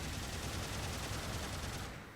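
Head-mounted Vulcan guns on a Gundam mobile suit fire a fast, continuous stream of shots in the game Gundam Battle Operation 2, a steady rattling burst at low volume that tapers off at the end.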